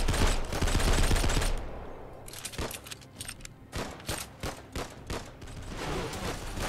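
Soldiers fire on zombies in a post-apocalyptic shooter game: a dense burst of automatic gunfire, then sporadic sharp shots and short bursts at varying distances.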